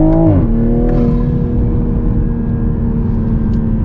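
A 2021 Toyota Supra pulls hard on a canyon road, engine note rising through a quick upshift then holding a loud, steady drone close to the cabin, with no talk.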